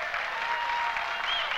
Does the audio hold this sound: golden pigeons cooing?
no